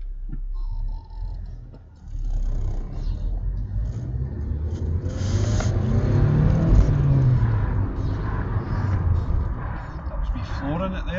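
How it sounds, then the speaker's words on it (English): A Vauxhall Cavalier MK3 engine is floored on a drive, the revs climbing into a loud, sustained in-cabin drone that peaks midway and holds, with a brief lull near the start and light ticking underneath. "Flooring it there just to see what happened."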